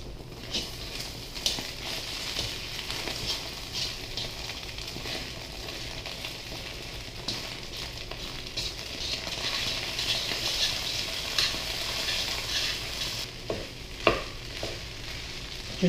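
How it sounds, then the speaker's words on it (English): Leftover rice being stirred and gently fluffed through eggs in a hot pan for chicken fried rice, a steady close sizzle and frying hiss with scraping stir strokes throughout and a few sharper clinks near the end. "Now we're going to start adding the rice and gently fluffing this through the eggs"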